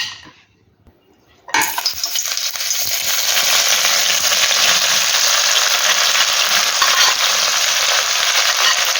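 Sliced large onions dropped into hot oil for fried chicken biryani: after a quiet start, a sudden loud sizzle bursts in and continues as a dense, steady crackling hiss.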